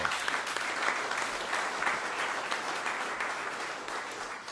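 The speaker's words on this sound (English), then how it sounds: "Let's give them a round of applause" Audience at a governor's economic announcement giving a round of applause, a steady, dense wash of clapping from a sizable crowd, moderately loud and sustained throughout with no talk.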